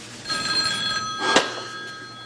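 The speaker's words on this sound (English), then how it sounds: "Go answer that phone, say hello." An old telephone bell rings in an indoor 1970s television comedy scene, a clear steady ring with a sharp clack near the end, close and fairly loud with no talk over it.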